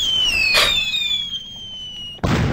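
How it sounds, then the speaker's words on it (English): Cartoon explosion of George the fish after he puffs up like a pufferfish in a video game, a sharp burst over a high whistling tone, then a second bang cutting in near the end. "Explosion."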